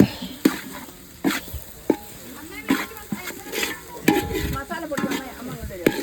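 Beef curry is stirred in a frying pan, a close sizzle punctuated by repeated scraping and clinking of a spoon against metal, uneven in rhythm, with no talking.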